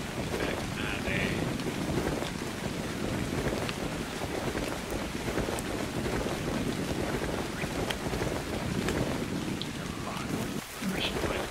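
Steady rain falling in ARK: Survival Evolved, a continuous broadband hiss with a windy rumble underneath, even and unbroken throughout with no pauses.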